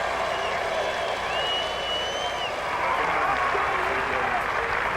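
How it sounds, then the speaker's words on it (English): Golf gallery applauding Tiger Woods after his closing birdies at the 2009 Memorial Tournament: steady, continuous clapping and crowd noise from a large outdoor gallery, dense and unbroken for several seconds with a faint commentator-like murmur. "And Jack is coming down the hill to applaud him in person."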